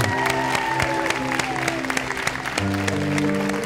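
Steady applause from a gathered audience at a Franco-Ontarian community celebration, with sustained tonal sounds running underneath throughout.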